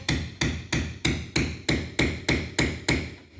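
A hammer strikes a nail set nine times at an even, steady pace while installing an exterior window, each blow a sharp, close metallic knock that fades quickly, with no talk.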